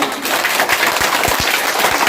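Children clapping their hands during a school readiness activity, a steady burst of scattered applause filling the whole stretch at fairly close range.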